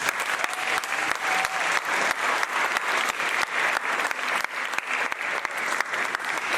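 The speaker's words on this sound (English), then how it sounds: "can I also have a round of applause for our kids?" Audience at a Cape Town science pitching event applauds the kids, a dense, steady wash of many hands clapping close and loud throughout, with faint voices underneath.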